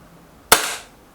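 A single sharp shot from an EB Arms XV2 blaster, a sudden loud crack with a short fading tail, standing alone against quiet.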